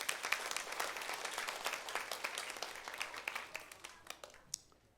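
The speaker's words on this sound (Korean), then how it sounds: "우리 중고등부하고 유초등부 박수 한번 해주세요." Congregation in a church service, including youth and children's groups, gives a round of applause, moderately faint crisp clapping that thins out into a few scattered final claps before fading.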